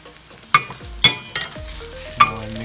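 Scrambled eggs fry in oil in an iron pan, with a soft sizzle punctuated by three or four sharp spatula scrapes and knocks as they are stirred, close and fairly loud.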